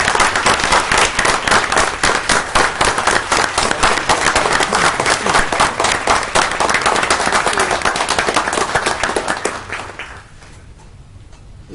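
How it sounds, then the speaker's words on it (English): Dense, loud applause from the room at a regular session of the Shreveport City Council, steady and vigorous for about ten seconds before quickly thinning out into a few scattered claps. "will you help me give her a round of applause?"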